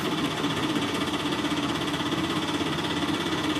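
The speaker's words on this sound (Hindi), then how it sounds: "किसी टेम्पू के इंजन की तेज आवाज सुनाई पड़ती है।" An auto-rickshaw tempo engine drones steadily and loudly on a deserted road, a continuous buzzing mechanical rattle with no clear rise or fade.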